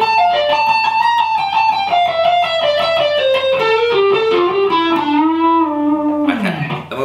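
Electric guitar with distortion plays a fast descending run of sustained notes from a solo, loud and close, ending with a downward bend.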